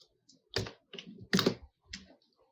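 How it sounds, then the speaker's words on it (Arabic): Computer keyboard keys pressed while selecting a circle drawing tool, several separate sharp clicks a short pause apart, close and clear with no talk. "هنلاقي السيركل، او اننا بالظبط من الكيبورد وهندوس حرف السي"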